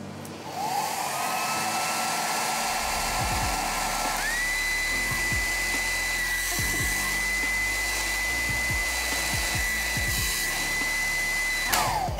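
A handheld hair dryer whirs steadily and loudly for the whole stretch, its motor whine shifting pitch partway through as a vacuum valve is tried, with faint knocks underneath.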